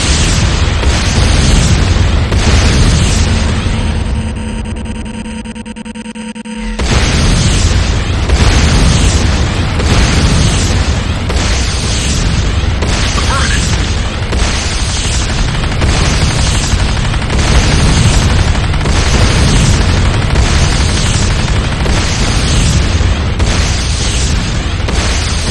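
Repeated booming explosions and bursts of gunfire from an attack on a GDI Advanced Guard Tower in the game Renegade, loud and continuous, with a brief lull before the blasts resume.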